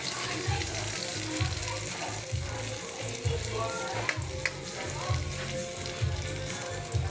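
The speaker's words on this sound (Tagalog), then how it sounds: "Gisa-gisa lang una." Food sizzles while being sautéed in a frying pan, with steady frying hiss and repeated rhythmic scraping strokes of stirring, close and fairly loud.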